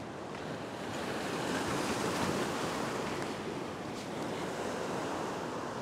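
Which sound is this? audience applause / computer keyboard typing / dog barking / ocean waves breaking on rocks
ocean waves breaking on rocks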